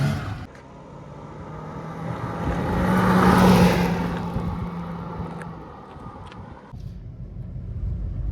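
A fifth-generation Honda City on the move: the engine and road noise swell steadily to a louder peak, ease off, then rise again, heard as a continuous moderate rumble with no talking.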